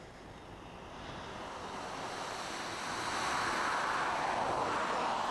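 A Scottish waterfall crashes in a steady, full rushing roar, heard close up in cold outdoor air, with wind buffeting the microphone and the roar growing slightly louder toward the end.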